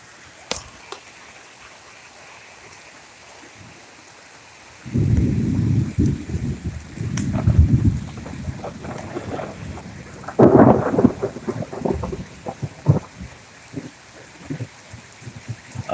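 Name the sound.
thunderstorm with heavy rain and thunder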